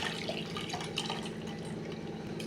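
Water is poured to rinse homemade paneer, a continuous close splashing and trickling that stays steady and fairly soft throughout, with no talk.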